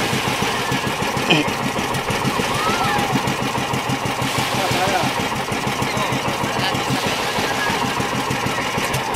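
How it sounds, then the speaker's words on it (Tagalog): Small fishing boat engine running steadily during a jigging trip off Naujan, Oriental Mindoro, a close rhythmic mechanical chugging throughout, with voices talking over it. "Nakasalang nila yung makina."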